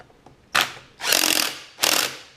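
Three ratcheting bursts from a wrench snugging down bolts during an MH33 rebuild, each a quick run of dense metallic clicks with short pauses between, close and fairly loud.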